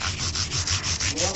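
Fine 400-grit sandpaper rubbed back and forth over guitar frets, a steady rhythmic scratchy sanding with about eight even strokes, close and continuous.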